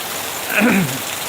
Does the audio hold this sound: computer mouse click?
no